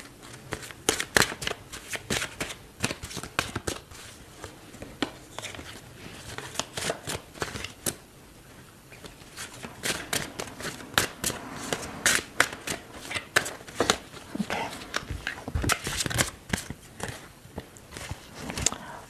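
Tarot reading cards shuffled by hand in a long run of crisp, rapid riffling bursts, close and fairly loud, with brief pauses between shuffles and no talk over them.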